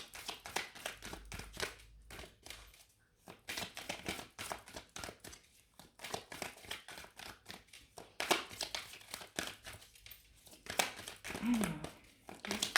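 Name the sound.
tarot cards being handled and drawn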